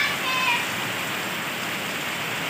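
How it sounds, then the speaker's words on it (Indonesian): Rain pours in a steady, dense hiss of drops hitting surfaces, close and unbroken, with a faint tonal whistle near the start and no talk. "Udah hujan ya."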